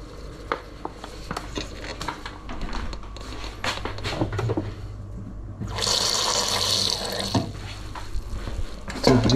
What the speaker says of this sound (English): I'm going to add a bit more flour and water at this point